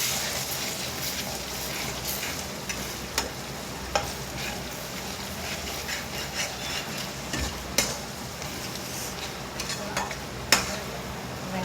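A spoon stirs turmeric, salt and spices in a pan for chicken curry, with a continuous scraping and sizzling texture and occasional sharp clicks of the utensil against the pan. No one speaks.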